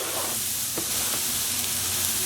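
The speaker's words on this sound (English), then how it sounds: "Once our oil heats up, we'll add in our onions." Onions sizzle and crackle in hot olive oil, a steady frying hiss with a few sharp pops and a brief stir partway through.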